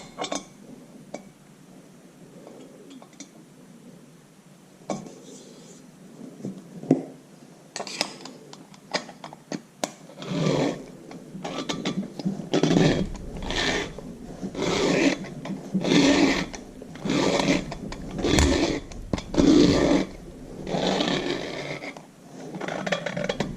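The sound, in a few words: valve seat cutter cutting a Farmall Super MTA engine head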